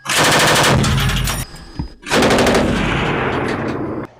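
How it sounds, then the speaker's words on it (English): A Leopard 1 tank's machine gun fires a ten-round ranging burst, loud and close: two dense stretches of rapid automatic fire split by a brief pause, the reports running together into a continuous rattle. "Hydraulic operation on! 10-round ranging burst! Fire!"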